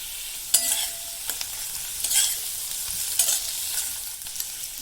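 Crab curry spices frying in a pan with a little salt, a steady close sizzle broken by several sharp stirring scrapes, with no talking.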